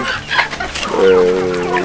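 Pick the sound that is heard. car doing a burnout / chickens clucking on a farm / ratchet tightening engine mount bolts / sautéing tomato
chickens clucking on a farm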